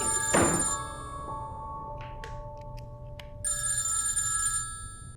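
A telephone rings in a home, an electronic ringtone with sustained tonal trills that pause and resume, accompanied by a couple of soft knocks and thuds nearby.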